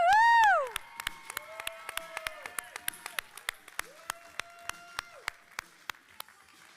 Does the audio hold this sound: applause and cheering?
yes